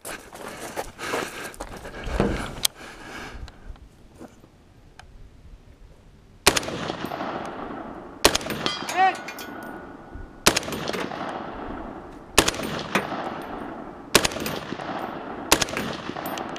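Gunshots at targets ring out at an outdoor two-gun Halloween match in Mifflin County: sharp, loud reports in spaced bursts of two or three, with quieter rustling and handling noise between them.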